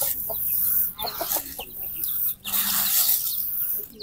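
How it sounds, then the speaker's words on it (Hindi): Several chickens cluck and squawk nearby in quick, uneven bursts, loud and close, in a village. "हम लोग का मुर्गी आए, ये सब खाने आ गई।"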